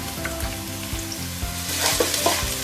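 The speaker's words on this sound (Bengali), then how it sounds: "আমি এখন দিয়ে দিচ্ছি পেঁয়াজ কুচিটা, সাথে দেব 3-4 ফালি মরিচ কাটা," Chopped onion and green chili slices sizzle steadily in hot oil for a Bengali prawn and Malabar spinach dish, a close, continuous crackling fry with light stirring scrapes and no voices.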